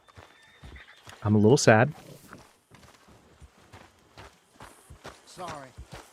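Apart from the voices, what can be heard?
horse walking in video game Red Dead Redemption II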